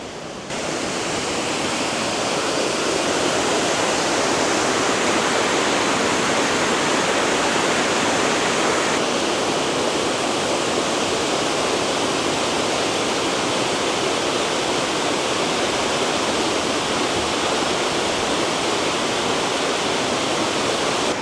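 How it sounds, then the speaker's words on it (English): A waterfall roars steadily and loudly, a dense unbroken rush of pouring water with no pauses or voices. "it's a very pretty waterfall"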